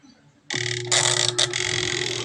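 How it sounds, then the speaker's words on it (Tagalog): A clothes dryer's timer knob is turned, then the dryer starts at once with a loud steady hum and a rattling drone that runs to the end. The dryer has a broken brake cable hanger. "So, pihitin ko na tong timer."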